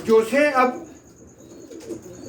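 Pigeons with long beaks give a few close, loud coos in quick succession, then the sound fades to quiet background noise.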